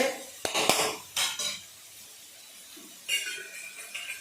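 A metal lid clatters onto a pan of cooking chicken and tomatoes in a few sharp clanking bursts, then a quieter pause and one more rattle.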